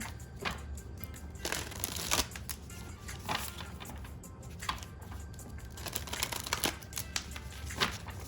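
Oracle cards shuffled in repeated soft, papery riffling bursts, close and quiet, with no talk.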